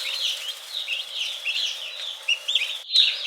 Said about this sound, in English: we got our 9 turkeys inside here